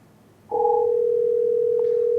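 A steady telephone tone cuts in abruptly after a quiet moment and holds unbroken during a test call on an Asterisk phone system, loud and close with no talking over it.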